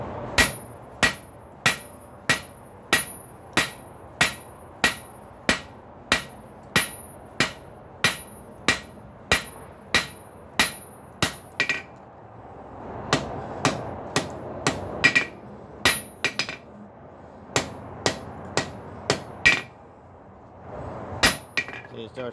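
Hammer flattening the head of a hot rail spike on an anvil, a long run of sharp, ringing metallic strikes at a steady pace of about one per second, close and loud, with a brief pause midway.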